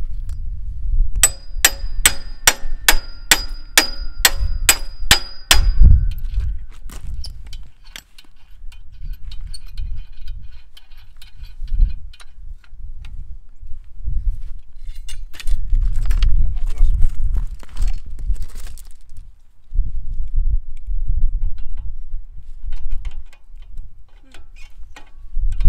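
Sharp metallic taps ring out in a quick regular series of about eight hits, tightening pins on a Farmall 140 cultivator outdoors, followed by scattered clanks and handling noise with people talking.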